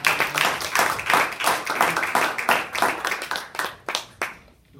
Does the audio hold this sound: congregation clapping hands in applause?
yes